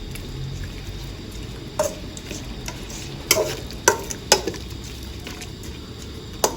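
Frog curry ingredients being stir-fried in a pan for a rustic Isan-style om, with a soft steady scraping and a few sharp clinks of a utensil against the pan, alone without talk.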